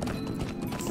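A brief burst of galloping horse hooves in the video game LOTRO, rapid clip-clop beats filling the short moment at moderate loudness.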